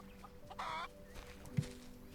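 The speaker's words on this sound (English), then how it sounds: "This chicken sounds like it's in distress" A chicken in the video game Solarpunk gives a short burst of clucking, then a single low thump, quiet against a faint steady background hum.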